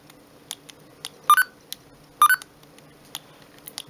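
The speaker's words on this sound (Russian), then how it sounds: "сигнал нажатия клавиш, который вы слышите, когда я щелкаю на кнопки" Key press tones from a Siemens A52 mobile phone: two short double beeps stand out among faint button clicks, each beep a quick paired chirp, close and clear with no talking.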